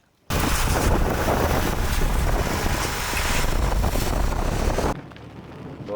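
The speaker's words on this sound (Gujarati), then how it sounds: "પવન આવે" Strong wind roars across the microphone in a loud, steady gust for several seconds as rain begins, then drops suddenly to a quieter background.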